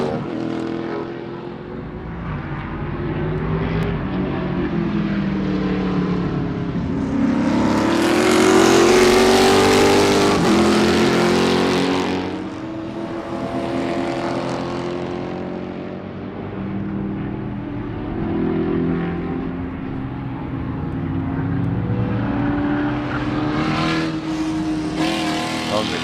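An Aston Martin race car engine roars at Sebring racetrack during an SCCA race. The drone is loud and continuous, swells to a peak midway, then eases and rises again.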